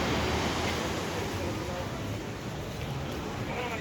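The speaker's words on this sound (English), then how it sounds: "you see occasionally the waves get a little bigger, crisper" Ocean surf breaks along a Puerto Vallarta beach before Hurricane Roslyn, a steady, loud wash of waves with wind noise across the microphone.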